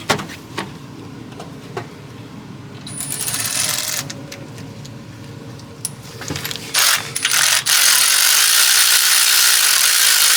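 A ratchet with a 13 mm socket clicks as it loosens the idler pulley bolt on a 2009-2018 Ram 1500, with scattered clicks, a stretch of rapid ratcheting and metallic clanks near the end, no speech.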